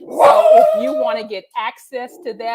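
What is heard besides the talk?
puppy barking in the background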